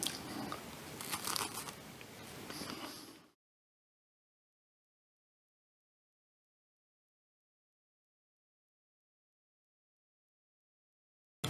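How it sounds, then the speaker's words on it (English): Someone bites into and chews a homemade churro-flavored Kit Kat with cinnamon coating, giving close, crisp crunches for about three seconds before silence. "Nice crunch, and the cinnamon flavor is spot on."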